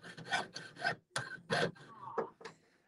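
A jeweler's saw cuts with short up-and-down strokes, giving a close series of rasping bursts, some with a slight squeal, separated by brief pauses.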